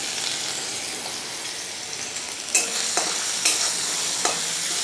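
Chopped garlic and ginger frying in oil in a wok, a loud continuous sizzle with a few brief clinks of a stirring utensil, close up and without speech.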